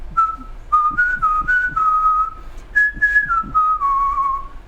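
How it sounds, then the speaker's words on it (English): Someone whistles a melody up close, clear sustained notes stepping between pitches, with soft tapping or breathing sounds underneath. "Let me whistle a song from."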